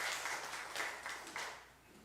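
A church congregation claps during a Sunday service in rhythmic bursts of applause, fairly faint and distant, fading toward the end.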